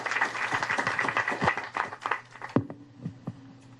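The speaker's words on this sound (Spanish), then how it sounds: "Un aplauso para él porque ha hecho un esfuerzo para estar con nosotros" An audience at a literary celebration event gives a short round of applause, dense clapping that thins out into a few scattered final claps, fairly close and moderately loud.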